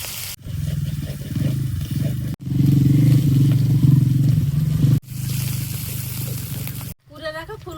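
Asafoetida, grated ginger and chopped green chilli hit hot oil with black cumin, giving a loud, steady sizzle that runs through several short cuts, with a voice talking over it.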